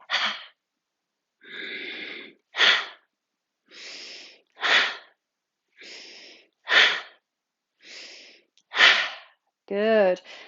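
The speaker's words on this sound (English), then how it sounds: "you can breathe in through your nose and then exhale out through the mouth" Slow breathing during a yoga flow for neck and shoulders: a regular cycle of soft nasal inhales alternating with longer, breathier exhales through the mouth, about five rounds, close and clear, ending on a brief sighing tone.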